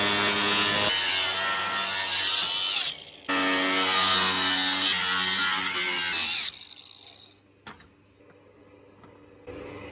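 Saw cutting through a section of metal pipe in a farm workshop, a steady rasping stroke that runs loud and continuous for several seconds, breaks briefly, resumes, then drops away to quieter rustling.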